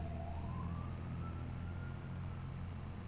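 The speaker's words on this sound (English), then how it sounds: "I hear sirens." An emergency siren outside, real rather than in a game, wails faintly from a distance with a rising tone over a steady low engine-like rumble.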